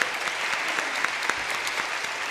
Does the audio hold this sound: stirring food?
no